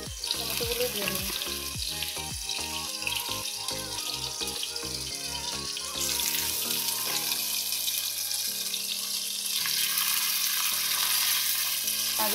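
Chopped onion, garlic and tomatoes fry in a hot pan, a close, steady sizzle with stirring clatter and a brief watery hiss partway through, continuing without speech.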